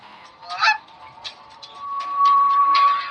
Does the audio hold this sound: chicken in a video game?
yes